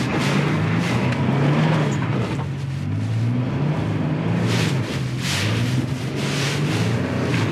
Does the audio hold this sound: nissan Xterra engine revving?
yes